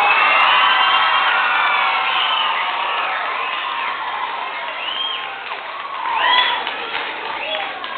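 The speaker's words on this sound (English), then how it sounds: "So give yourselves a big round of applause." A crowd of children at a school event cheers, shouts and whoops loudly, with clapping mixed in and high excited voices rising and falling throughout.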